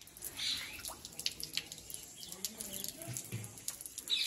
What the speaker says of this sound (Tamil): தண்ணி கீழே போகுது வேஸ்டா.